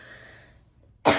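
A single sharp cough bursts out near the end after a stretch of soft, quiet room sound.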